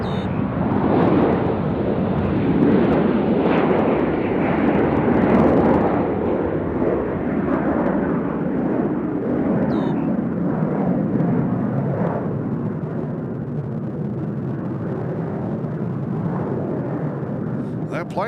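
An older airliner taking off at Nashville International Airport, a loud continuous jet roar that stays strong and broad throughout before easing slightly near the end, with a few voices faintly audible beneath it.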